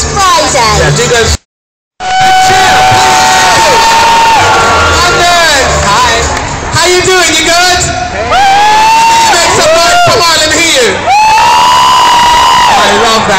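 A large crowd at the Regent Street Christmas lights in London, loud and close, with sustained shrieks, whoops and cheering that rise and fall in waves, a brief dropout near the start.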